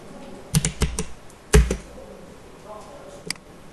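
Values typed on a computer keyboard while drafting a CNC lathe drawing: a few sharp key clacks, with a firm double strike like an Enter press, close and distinct against a quiet room.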